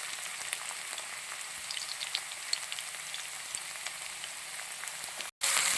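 Mustard seeds, garlic and ginger frying in hot oil, a steady close crackling sizzle with scattered pops, cut by a brief gap before a louder burst at the end.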